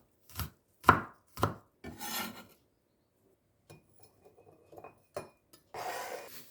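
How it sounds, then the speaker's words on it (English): A knife chops garlic cloves on a cutting board: several sharp, separate knocks, a few quick strokes, a pause, then more cuts. The sounds are close and crisp with no talking. "let's chop 3 to 4 cloves of garlic."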